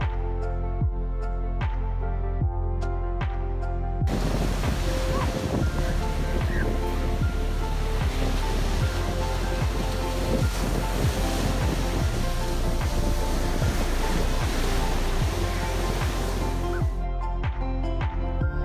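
Sea waves washing onto a sandy beach along Burgas bay on the Bulgarian Black Sea coast, a steady broad roar with wind noise, louder and denser in the middle stretch and lighter at the start and end.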